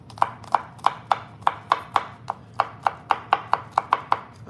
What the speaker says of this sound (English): So I'm doing about 3 cloves, more even merrier. More cloves the merrier. So I'm here, I'm doing about just chopping them up.